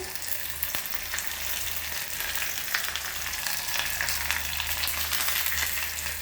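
Curry leaves frying in hot oil with garlic, onion and tomato for a fish curry, a steady close sizzle and crackle with scattered sharper pops throughout.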